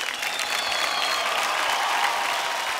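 A studio audience on a televised dance competition gives a loud, dense round of applause for a dancing pair, a continuous close roar of clapping throughout.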